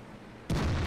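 A World of Tanks tank gun fires once, a sudden loud boom that cuts in sharply after a quiet hum and keeps rumbling to the end.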